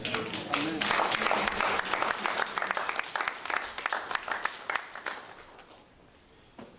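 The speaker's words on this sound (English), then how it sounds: "I would like to give you another round of applause." Audience applause at a two-day workshop on inmate behavioural and cognitive modification, a dense wash of clapping that holds steady, then thins into scattered claps and fades toward the end.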